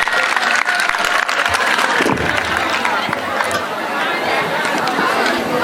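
An audience at a live French educational broadcast applauding: loud, sustained, dense clapping with crowd chatter mixed through it for the whole stretch.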